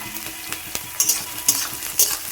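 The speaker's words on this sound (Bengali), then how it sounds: "তো এগুলো ভালো করে নেড়ে করে নেব" Egg and peas frying in a pan while being stirred, a bright sizzle broken by regular utensil scrapes and clicks against the pan, fairly loud and close, no talking.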